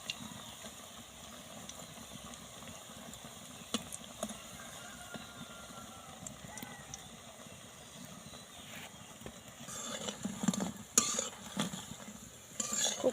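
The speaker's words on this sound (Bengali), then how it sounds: "সবগুলোই উল্টে দেবো।" Kulekhara leaf pakoras being turned over one by one as they fry on low heat in a pan, giving a steady soft sizzle broken by occasional scrapes and clinks that grow busier toward the end.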